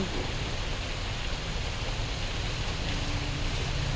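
Steady rain pours down outdoors on a warm day in Banaras, a dense, even hiss of drops on the ground and surfaces with no voices.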